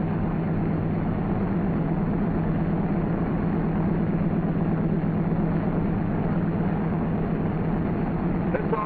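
Steady, loud drone of a C-47 Skytrain aircraft engine held at 1,500 RPM, a dense continuous roar with no breaks that runs the whole stretch without any voice over it.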